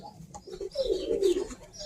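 A red grizzle pigeon gives a soft, low coo that swells and fades over about a second, close and fairly quiet against faint background noise.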